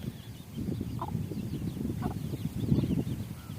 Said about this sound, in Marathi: इथं कोंबडी बघा पिल्लांसोबत किती मस्त चरतीये उकंड्यावरती.